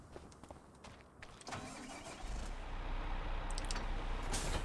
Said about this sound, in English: I think I'm going to take this Fendt tractor